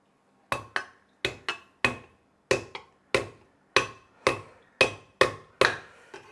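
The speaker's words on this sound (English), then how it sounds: "Use the back of your knife to actually hit it." A run of about a dozen sharp, close thwacks as the back of a knife smashes ginger on a board, in irregular pairs and singles, with quiet between blows and no talking.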